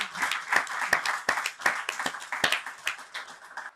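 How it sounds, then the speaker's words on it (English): An audience claps after a panel discussion on designing for health and wellness, a modest scattering of distinct claps close by with a few louder hand strikes, fading somewhat toward the end. "I think round of applause"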